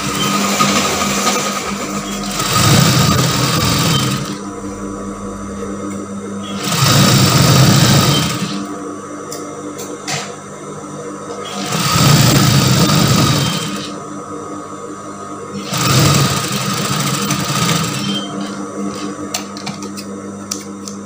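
A sewing machine stitches the folded end of a fabric strap into a point, with several loud, steady mechanical runs of a few seconds each separated by short quieter pauses, heard close and without any talking.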